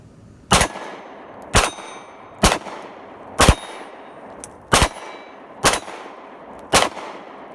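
Seven sharp metallic clangs from Kahr CW9 9mm pistol rounds striking 12-inch steel plates at about 15 yards, evenly spaced roughly a second apart, each a crisp ring with a brief decay and no talking.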